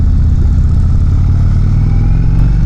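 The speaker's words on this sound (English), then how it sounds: "I do like the sound of these new Indians better than the sound of the new Harleys." A 2019 Indian Chieftain Dark Horse motorcycle engine runs steadily at low speed with a deep, loud, even rumble and no voices over it.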